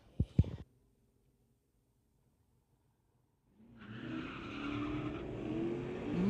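Ford Mustang and another car drag racing side by side at a street-legal drag strip, a short burst at the start then, after a silence, engines roaring and building in the distance with tire noise.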